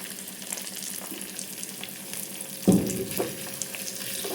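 Curry leaves, asafoetida and cashews temper in oil over low heat with a gentle, continuous crackle, a brief louder spit partway through as they go in, then a soft steady sizzle close by.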